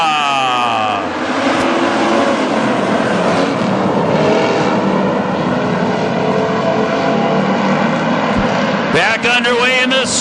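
Street stock race cars roar around a dirt speedway in a continuous loud engine drone, with a commentator talking over the racing throughout.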